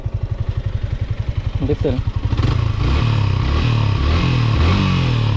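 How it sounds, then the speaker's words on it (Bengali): A used motorcycle's engine runs close by with a steady low, thumping pulse that grows fuller and louder partway through, while someone talks over it. "মাস্ট বি আপনারা বাইকের সাউন্ডটা দেখে নেবেন। আমার সাউন্ডটা দেখেন"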